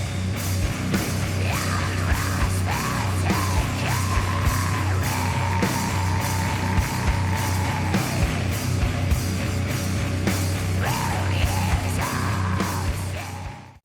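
A band plays doom sludge metal, with dense distorted guitars, a heavy low rumble and pounding drum hits under harsh screamed vocals, loud and continuous throughout.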